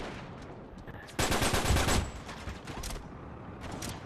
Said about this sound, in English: Hey, look at that blind fire